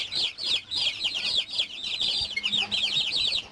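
Small silkie chicks in a coop give a steady run of high, overlapping chirps and peeps, with soft low clucks and faint background noise underneath, no voices.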